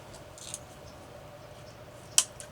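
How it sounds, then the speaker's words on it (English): Scissors snipping a hoya plant stem just above a leaf during propagation, a single sharp, close click-snip after a faint earlier tick, in a quiet room. "So I'm gonna cut right above this leaf."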